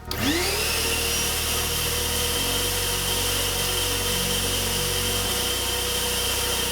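A Ronix construction vacuum cleaner runs continuously at a steady, loud whine about a metre away, its motor spinning up at the start and its droning tone shifting slightly a couple of times.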